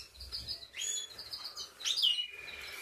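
Caged goldfinches and canaries chirp and tweet close by, with bright, quick trilling calls coming in short overlapping bursts over a soft background hum.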